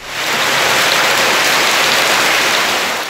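Heavy rain pours down in a steady, dense hiss during an Istanbul downpour, loud and close throughout with no voices.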